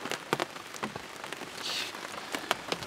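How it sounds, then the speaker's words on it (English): Steady rain patters on a bicycle camper nearby, with scattered sharper drops striking irregularly over a constant wash. "Looks like rain again."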